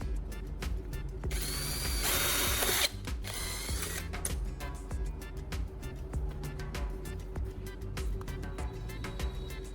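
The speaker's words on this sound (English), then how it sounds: "First, I use a drill to make a small hole in the center of the bottom of each can." A power drill bores a small hole in the center of an aluminum Coca-Cola can bottom, with a short whirring burst followed by a string of quick ratcheting clicks and light tapping, close and fairly quiet.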